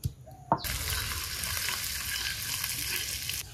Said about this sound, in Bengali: কড়াইতে সর্ষের তেল দিচ্ছি ফোড়ন দেওয়ার জন্য, আর ফোড়নে দেবো তেজপাতা, শুকনো লঙ্কা, থেতো আদা, 5 ফোড়ন।